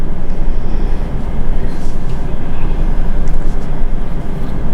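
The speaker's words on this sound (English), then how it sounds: "There's a train passing by." A train passes by close to an indoor room, a loud, steady low rumble filling the whole stretch with no break.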